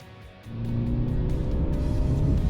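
A 2023 MINI Countryman SUV drives on the road, its engine hum and tyre roar swelling after a quiet start and then holding steady and close.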